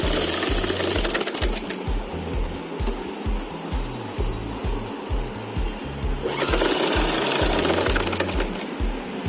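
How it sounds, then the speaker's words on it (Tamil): A sewing machine stitches lining to the front fabric of a chudidar, running at a rapid, even, pulsing clatter up close for the whole stretch without pause, with nobody speaking. "ஷோல்டரில் இருந்து அப்படியே ஒரு லைன் ஃபுல்லாக நம்ம அடிச்சுட்டே வரணும்"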